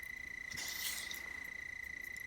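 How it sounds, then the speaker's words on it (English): Crickets chirp at night in the woods, a steady high trill that runs through the whole stretch. A brief soft rustle rises in the middle, and there are no voices. "Hear the crickets?"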